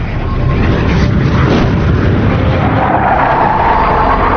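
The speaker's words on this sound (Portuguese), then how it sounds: "um de seus caças F-16 havia acidentalmente quebrado a barreira do som sobre Kokomo" A loud, sustained rumbling roar of an F-16 fighter jet breaking the sound barrier over Kokomo, broad and booming, filling the whole stretch with no voices.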